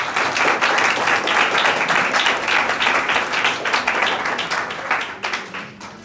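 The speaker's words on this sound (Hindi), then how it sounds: "जोरदार तालियां के लिए।" A church congregation at a New Year prayer service claps loudly and steadily, dense applause sustained for several seconds before tapering off near the end.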